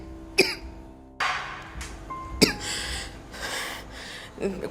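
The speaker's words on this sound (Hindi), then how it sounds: "ये अचानक तुम्हें खांसी क्यों हो रही?" Several sharp coughs, close and fairly loud, spaced irregularly with brief pauses and a few throat-clearing rasps between them.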